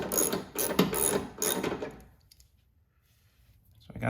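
Bolts are snugged down on a Toro Power Clear 621 QZE snowblower during a drive belt replacement. A ratchet clicks rapidly in close, loud bursts for about two seconds, then goes quiet.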